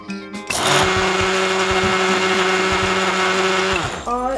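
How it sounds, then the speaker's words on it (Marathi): A mixer grinder whirs loudly and steadily for a few seconds, grinding garlic, ginger and coriander into masala, starting and stopping abruptly, with no voices. "कोथिंबीर घेऊन मिक्सरमध्ये चांगलं बारीक करून घ्या"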